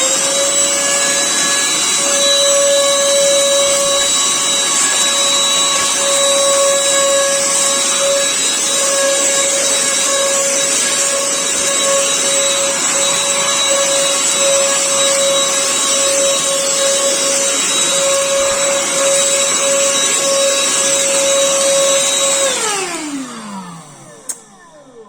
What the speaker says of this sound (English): this vacuum cleaner is pretty noisy because it is quite a powerful motor